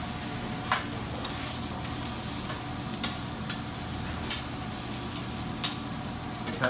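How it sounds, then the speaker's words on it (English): Mushrooms and onions sauté in oil in a tavern kitchen pan, giving a steady close sizzle with occasional sharp stirring clicks and scrapes throughout. "You want to get the mushrooms soft and to sweat the onions."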